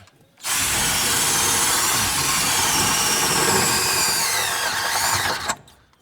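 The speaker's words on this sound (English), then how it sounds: "Oh yeah, she drilled that time." A right-angle 90-degree drill with a shortened 3/8 bit bores loudly and continuously for about five seconds, starting and stopping abruptly, close up with no talking over it.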